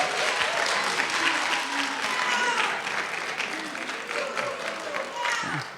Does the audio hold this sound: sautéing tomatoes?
no